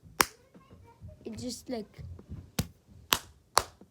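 Sharp hand claps aimed at a Nintendo 3DS microphone, one near the start and then three spaced claps toward the end, loud and close, with a short burst of a person speaking in between.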